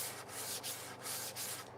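A foam sanding pad rubbed back and forth over a wooden workpiece in a woodworking shop, producing steady rhythmic hissing strokes at close range with short pauses between passes.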